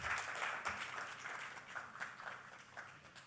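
Audience applause at a literary conference book launch as guests join the stage for a manga photo shoot, a dense patter of clapping that stays fairly steady and then slowly thins.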